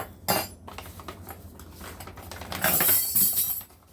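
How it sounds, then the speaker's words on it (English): Metal measuring spoons clatter onto a kitchen floor, a sharp clink followed by scattered jingling and a louder metallic rattle near the end as they settle. "there went my measuring spoons in the floor"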